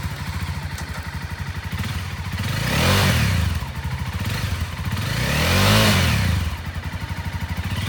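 A used 2016 Honda CBR300R lightweight sport motorcycle idles and revs nearby, its engine rising twice in smooth passes above a constant droning purr.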